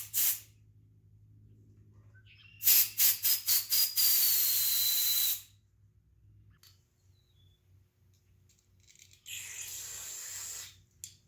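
Carburetor cleaner sprayed onto the carburetor of a 2012 Kawasaki KLX 140 motorcycle: a rapid string of short pulsed hisses, then a sustained close, loud hissing burst, and later another shorter spray after a quiet pause.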